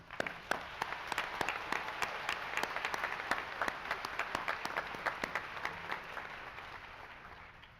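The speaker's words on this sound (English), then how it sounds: "Please join me in applauding" A university commencement audience applauds the graduating class of 2017, steady dense clapping with sharp individual claps standing out, filling the hall without a break.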